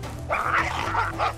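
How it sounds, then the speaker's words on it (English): African wild dogs fighting near their den, with close yipping, whimpering and snarling barks in quick overlapping bursts, fairly loud and without voices. "Dog fight."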